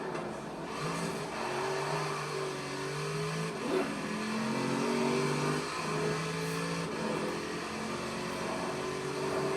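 A Chevrolet Corvette engine in the racing game Forza Horizon 4, revving and accelerating steadily, with rising and falling engine tones shifting through gears under a continuous road and wind roar.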